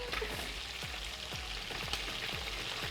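Onions fry in a hot pan during a Congolese home cookout, a steady close sizzle and crackle with faint rhythmic stirring scrapes underneath, no talking.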